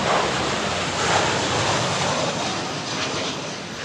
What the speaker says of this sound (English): you're going to see planes landing